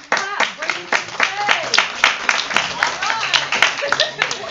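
A crowd claps steadily with dense, rapid handclaps that swell slightly, with a few voices calling out over the applause.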